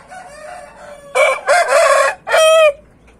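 A silver-coloured rooster crows nearby in one loud, drawn-out call broken into several bursts, with faint clucking before it.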